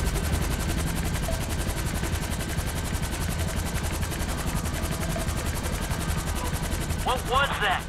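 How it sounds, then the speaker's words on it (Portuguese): A heavy machine gun in the GTA V video game fires a long, dense, continuous stream of rounds at a helicopter, loud and steady throughout, with a brief voice near the end. "atira daquela metralhadora pesada, né? Tu vê que o tiro é cadência bem lenta."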